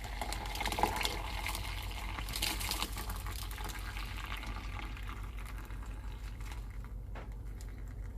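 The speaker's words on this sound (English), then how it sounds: "First thing I'm going to do is I'm going to pour all the water out." Murky water with foam and copper shavings is poured out of an antique bottle, a soft continuous gurgling trickle, fairly faint and close, thinning toward the end.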